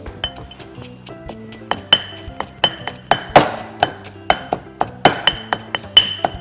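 Lemongrass and curry paste ingredients pounded in a mortar, a steady series of sharp clinking knocks, close and fairly loud, with some heavier thuds among them and no talk.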